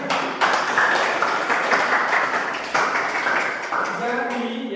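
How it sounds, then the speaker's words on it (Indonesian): Audience clapping in a school lesson, a dense burst of many hands that carries on steadily with some voices under it. "Ya, tepuk tangan."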